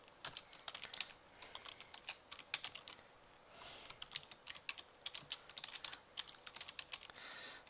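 A command is typed on a computer keyboard in an irregular run of quiet, close key clicks. The bursts come in quick clusters with brief pauses between them.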